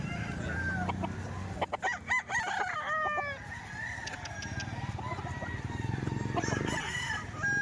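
Roosters crow loudly nearby, with clucking chickens and other fowl calling around them in a busy farmyard in Lipa, Batangas, Philippines.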